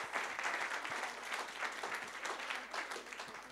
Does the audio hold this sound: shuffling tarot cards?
no